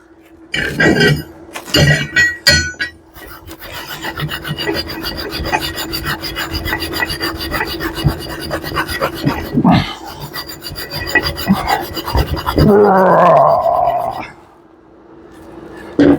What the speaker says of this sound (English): You can hear that wire feed motor going to town, right?